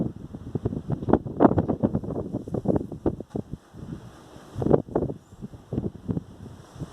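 Strong gusty wind from a storm in Germany buffets the microphone and rustles nearby, coming in loud, uneven rushes and dropping briefly before surging again.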